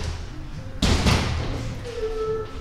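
A door is shut once with a single loud, close thud that rings out briefly against a quiet room background, followed by a faint tonal hum.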